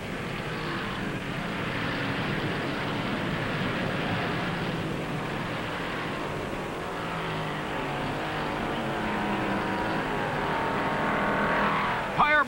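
A 1958 Chevrolet race car driven by Fireball Roberts in the last mile of the Darlington Southern 500: a steady, continuous engine drone heard from a distance, without clear pass-bys.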